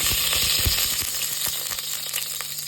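Desi ghee sizzles in a pot while zarda sweet rice is prepared, a continuous loud hiss with scattered small crackles and faint metallic clinks, close by, with no talk.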